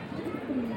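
Pigeons cooing at a busy pigeon market, soft low coos set against a constant background murmur of crowd noise.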